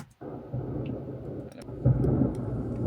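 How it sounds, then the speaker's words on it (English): Deep rumbling thunder sound effect layered into a music beat, a low rolling roar that swells and surges louder partway through, with no voices. "it's got thunder and lightning sounds in it"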